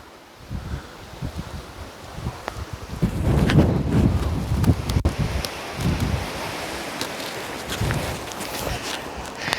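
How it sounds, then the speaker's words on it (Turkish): Strong wind in Kyrenia, Cyprus, buffets the microphone in loud, uneven gusts, rising to a heavy roar midway before easing into a steady rushing blow. "Of felaket bir rüzgar var."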